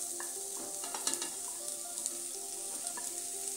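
Chana dal and chopped bottle gourd hit hot, sizzling spices in a pan and are stirred, with a steady close sizzle, scattered metal spoon clinks and scraping throughout and no talking.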